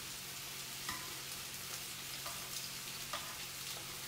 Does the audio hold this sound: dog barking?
no